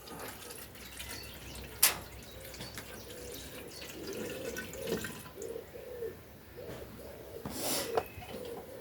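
Filtered spring water is poured into a pint measure for tea, making intermittent gurgling and trickling splashes close by, with a couple of sharp knocks between pours.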